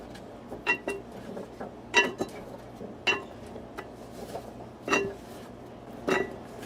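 A utensil scrapes and clinks against a pan while sweet potatoes are tossed and coated, giving six or so sharp metallic knocks at irregular intervals over a quiet background.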